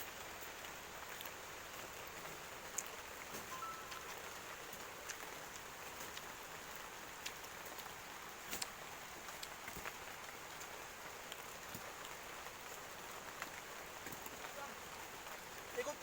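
Steady rain patters down during a salak fruit harvest in Marancar, a soft, even hiss dotted with occasional sharper drops, faint and continuous, and nobody speaks.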